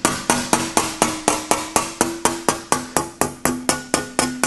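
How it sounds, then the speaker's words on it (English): Steady, rapid hammer blows locking a wire edge into sheet metal while rolling a bead, about four strikes per second, each a sharp ringing tap, close up with no voices. "I do a little hammer"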